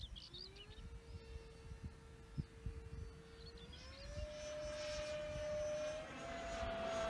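The electric motor of a Silver MC1 J AcroGlider model glider whines as a steady tone that steps up in pitch and grows louder as it climbs, over outdoor wind noise.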